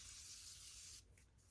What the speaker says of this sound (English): Now it's time for some fixing spray.